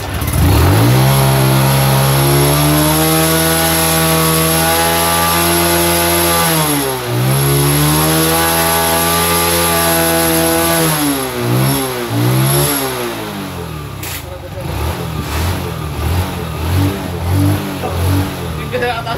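A Honda Wave Alpha 110 motorcycle that had trouble starting runs loudly up close, its engine revving up and down in several swells before settling into a rougher, uneven idle.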